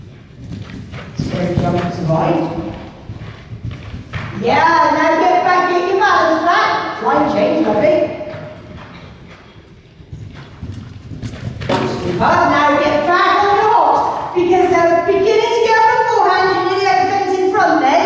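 A horse cantering during a British Horse Society training session, soft rhythmic hoofbeats under frequent close instructor speech, with a quieter stretch midway.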